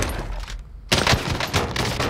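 Rapid bursts of video game gunfire crackle back to back, starting after a brief near-silent gap, loud and dense with no voices.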